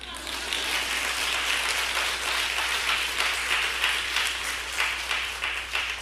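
A church congregation claps together through a testimony service, a sustained wash of applause with a low hum beneath it and voices mixed in.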